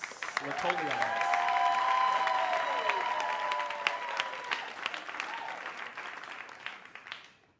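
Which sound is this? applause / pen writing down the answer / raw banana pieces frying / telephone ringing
applause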